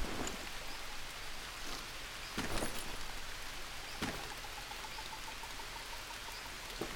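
Steady rain falling in the jungle survival video game Green Hell, a continuous moderate hiss with a few louder drops and gusts, no voices.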